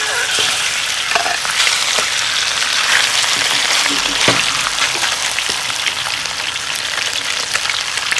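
Loud, steady sizzling of fish frying in hot oil in a wok, the first step in making a soy milk fish soup, with a few faint clinks and stirring noises over the constant crackle.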